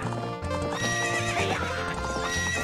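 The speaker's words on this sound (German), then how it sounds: "Nur Epona ist das einzig wahre Pferd." Epona, the horse in The Legend of Zelda: Ocarina of Time, gives a loud, clear game neigh over quick, rhythmic galloping hoofbeats, with background game music and no talking.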